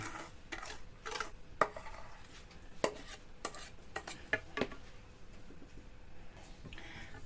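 Stirring enriched bun dough with risen starter in a bowl, a series of soft scraping strokes and light knocks of the utensil against the bowl, fairly quiet and close.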